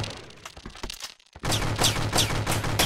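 Gunfire in a video game: scattered close shots give way after a brief lull to a loud, sustained rapid burst of automatic fire with regular crackling pulses.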